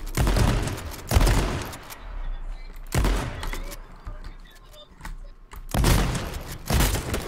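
Shotgun blasts in a multiplayer shooter game, heavy booming shots at irregular intervals, three or four loud bursts close by with quieter ambient game noise between them.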